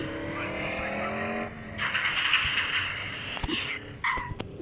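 A Lamborghini drives up in a video game, its engine a steady hum that swells as the car arrives, with a brief tire squeal and small clicks near the end.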